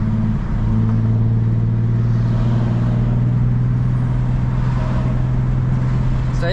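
Infiniti G35 with a 6-speed manual and a muffler and resonator delete, its engine droning loud and steady with a deep, constant exhaust rumble as the car is driven, heard from inside the cabin.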